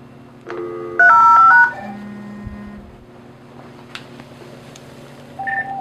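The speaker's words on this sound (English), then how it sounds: "Let me just press 3005 for PTT group." A few short electronic keypad dialing tones beep in sequence on a phone running a push-to-talk app with a radio PTT mic and external speaker, followed by a low hum and faint device noises.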